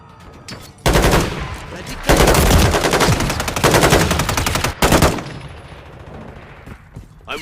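Rapid automatic gunfire in a video game crackles in long, dense bursts separated by short gaps, loud and close, fading into quieter background noise at the end.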